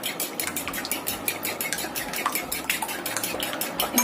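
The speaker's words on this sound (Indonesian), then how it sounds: "Kita kocok dulu telurnya ini sampai putih dan kuningnya itu tercampur rata" Two eggs being beaten in a bowl for a banana snack, a busy run of rapid clinking and sloshing strokes, close and steady throughout with no talk.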